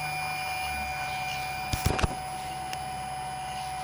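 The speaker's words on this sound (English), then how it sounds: "Very satisfactory for an induction motor." A three-phase horizontal induction motor runs at 35 hertz, humming steadily with a sustained tonal drone and a few brief clicks partway through.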